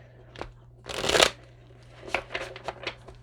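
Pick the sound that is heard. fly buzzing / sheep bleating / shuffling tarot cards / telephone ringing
shuffling tarot cards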